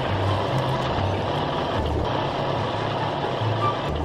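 Heavy Caterpillar machinery in the off-road game Spintires roars with a loud, steady low engine drone while a regular reversing beep repeats throughout, with no talk over it.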